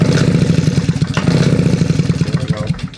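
RedMax leaf blower's small two-stroke engine running right after being pull-started, a loud, close, rapid clattering putter with steady rhythmic pulses and slight wavering in speed.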